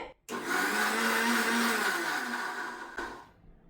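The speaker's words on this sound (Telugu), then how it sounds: "మిక్సీ జార్లో అయితే టమాటా ముక్కలు వేసేసుకున్నామండి" A mixer grinder grinding tomato pieces whirs loudly and steadily for about three seconds, then winds down and stops.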